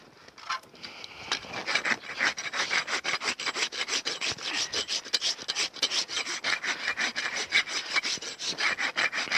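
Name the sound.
trimming hard sole of a horse's hoof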